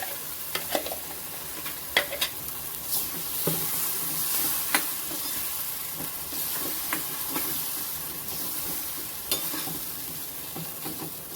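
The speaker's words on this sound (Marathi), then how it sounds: "आता जे हे वाटण आहे ते आपल्याला याच्यात घालायचं आहे सगळं आणि छान परतून घ्यायचं आपल्याला." Spice paste sizzles and fries steadily in a pan for a Maharashtrian poha dubuk vadi curry, with a continuous hiss and occasional scrapes and taps of a spoon stirring it.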